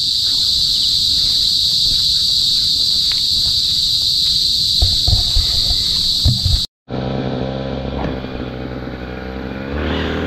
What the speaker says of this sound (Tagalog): Ingay ng ingay ng mga kuliglig.